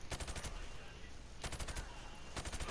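Gunfire in Call of Duty Modern Warfare Remastered, a target-shooting drill through wood: rapid bursts of automatic shots in three clusters, loud and close, with short pauses between.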